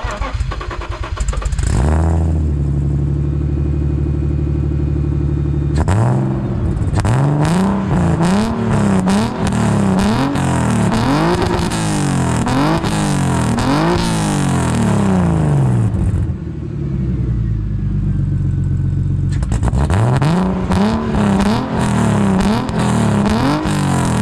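A turbocharged BMW E36 engine idles, then is revved hard several times in a row, each rev climbing and falling loudly, with the engine rumbling steadily between the bursts.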